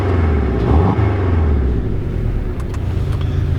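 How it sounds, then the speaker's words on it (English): A 2019 Porsche 718 Boxster with its sport exhaust switched off, engine revving briefly at idle; a steady, low, close rumble swells once near the start and then settles, heard on its own. "I'll rev it a little bit."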